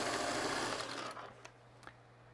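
Sewing machine stitching a quarter-inch seam on a small half-square triangle quilt unit, a fast even whir for about a second that stops, followed by a few faint clicks.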